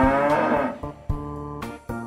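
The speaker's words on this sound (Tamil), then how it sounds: "இரவு மாடுங்க பயங்கரமா கத்துற சத்தம் கேட்டிருக்கு" Cattle in a village near a park lowing loudly at night, a string of long, deep moos, the first drawn out and the later ones shorter, close and overlapping.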